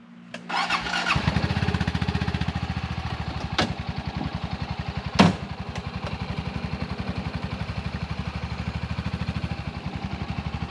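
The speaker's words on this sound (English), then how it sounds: "Put it in four-wheel drive and go slow." A four-wheel-drive vehicle's engine starts close by, then settles into a steady, rapid low putter as it creeps along slowly, with a brief squeal partway through.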